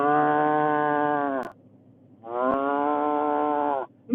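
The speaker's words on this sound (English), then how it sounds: "Look at them cows." Cows by the roadside letting out two long, loud moos, each lasting over a second, separated by a brief quiet gap.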